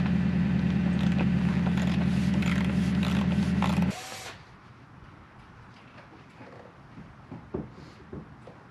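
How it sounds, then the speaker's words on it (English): Ratchet wrench clicking steadily as 16 mm bumper bolts behind the license plate come off a Jeep Gladiator, a dense loud mechanical rattle that cuts off abruptly partway, leaving faint shop noise and small knocks. "the 16 millimeter bolts right behind the license plate that you have to take off to get the bumper out"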